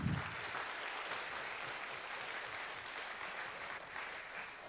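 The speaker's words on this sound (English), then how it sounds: "So please give him a very warm applause" Conference audience applauding before a talk about CubeSat satellites at the WHY 2025 event, a sustained, even wash of clapping heard from a distance, quiet overall and steady throughout with no one speaking.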